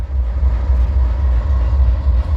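A westbound North Platte manifest freight train on the Needles Sub near Barstow, led by locomotive 9576, rolls past close by with a loud, unbroken deep rumble and steady rail noise.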